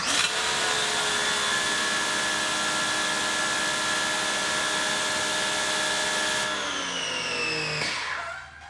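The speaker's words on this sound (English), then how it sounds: "I'm gonna go ahead and pull the trigger." A pressure washer fitted with a 2.5 mm orifice roars steadily with its motor whining under the spray, holding a loud even hiss for several seconds before the pitch drops and the machine winds down.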